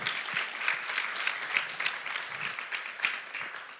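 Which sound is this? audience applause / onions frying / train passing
audience applause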